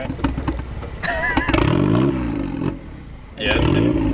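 A 1.6L turbo Miata engine running poorly from a fuel problem, with loud uneven revving and sputtering that rises and falls, dipping briefly before surging again, mixed with voices talking over it.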